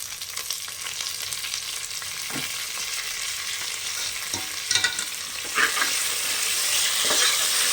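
Mint leaves stir-fried in a pan for a Bangalore-style veg biryani, with a steady bright sizzle throughout and occasional scraping strokes of a spoon, close and fairly loud, with no voices.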